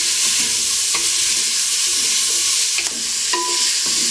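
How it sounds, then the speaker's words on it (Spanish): Sheep meat fat fries over an open flame while being stirred, a loud continuous sizzle and hiss close by, broken by occasional scraping clinks of the utensil against the pan. "Y le vamos a dar una fritada con ese fueguito nomás, con esa llama, para que comience a largar grasita."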